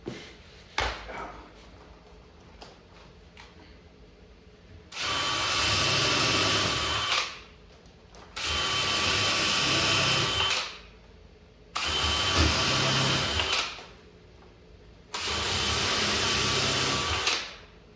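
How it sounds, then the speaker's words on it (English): A power drill drives screws into wood in four sustained bursts of about two seconds each, separated by short pauses, loud and close with a high buzzing whine. "And now we're going to drill it and get the screws in it."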